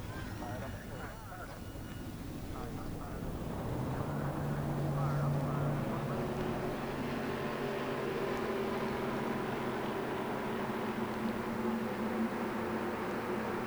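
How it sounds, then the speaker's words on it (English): Stock car engines revving and droning together at the start of a NASCAR sim race at Darlington, a steady loud roar that swells and holds with rising engine tones. "Alright, engines fired up."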